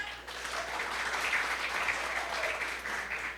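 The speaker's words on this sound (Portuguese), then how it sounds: "Salva de palmas para a Silaine." Audience applause at a Brazilian teen discipleship church event, a dense steady patter of clapping hands filling the room, continuous and fairly loud, with faint voices mixed underneath.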